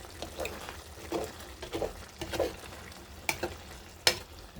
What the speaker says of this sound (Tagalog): Yan, haluin natin.